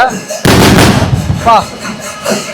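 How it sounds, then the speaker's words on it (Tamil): Firecrackers burst at the Thrissur Pooram festival in a loud, dense barrage of sharp cracks and bangs that starts abruptly and rattles on for about a second, with a crowd and voices audible around it. "பாருங்க, இங்க உள்ள வெடியே வந்து டிஃப்ரெண்டா இருக்குங்க."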